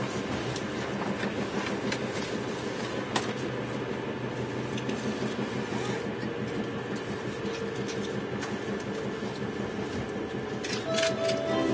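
Steady, close rumble and hum inside a Kintetsu nonstop limited express train running from Nagoya toward Osaka-Namba, with continuous rolling noise and no voices for the whole stretch.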